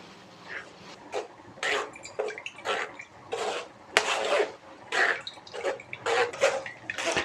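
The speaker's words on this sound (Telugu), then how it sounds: "దాన్ని స్ట్రైనర్ పెట్టుకొని వడకట్టేసుకోవాలన్నమాట" Blended fruit paste for ABC gummies is pushed through a strainer, giving wet, splashy bursts of liquid dripping and swishing that come in irregular pulses close by, with no voices.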